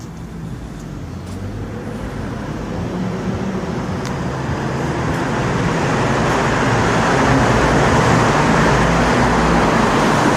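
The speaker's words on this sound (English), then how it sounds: "You can hear the traffic of the Ville Marie above us." Road traffic on the Ville-Marie expressway rumbles overhead inside the Georges-Vanier tunnel, a loud, steady, reverberant roar that swells gradually, with faint higher tones and no talk.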